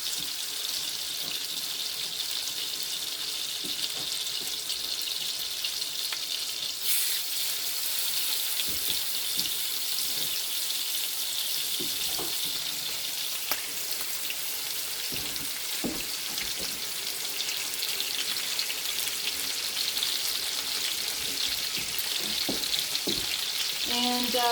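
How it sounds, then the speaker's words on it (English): Chuck roast steaks pan-frying in a hot pan, a steady loud sizzle that holds for the whole stretch, with occasional clinks and scrapes near the end. "Throw my chuck roast steaks onto here."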